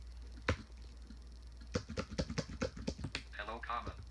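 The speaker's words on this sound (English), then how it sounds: "and I'm gonna start typing." Keys clack on an ElBraille 14 braille notetaker keyboard, one sharp press followed by a quick run of close, crisp taps, with a synthetic voice speaking over the end.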